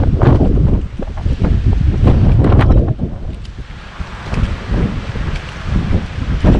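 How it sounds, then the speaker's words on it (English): Strong wind roars across the microphone at Pali Lookout on Oahu, a loud, continuous buffeting rumble with gusty surges and brief lulls, heard alone without voices. "Pali, look out, the windiest place in Oahu. It's kind of fun to feel the wind,"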